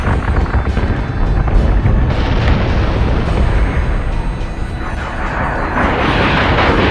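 Starship weapons fire in Battlestar Galactica Deadlock, a loud, continuous rumbling barrage of booms and bursts that surges and dips over seven seconds with no clear pauses.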